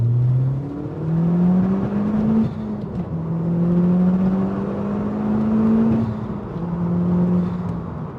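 A newly bought car accelerates smoothly and linearly up to the speed limit, a steady engine or motor drone rising in pitch in two long sweeps, heard from inside the cabin without talk.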